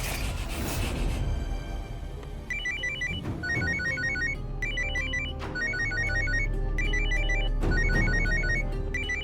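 A mobile phone rings with an incoming call from a mother, playing a bright, repeating electronic ringtone in short bursts of notes over a low background hum and music, with a brief rustle near the start.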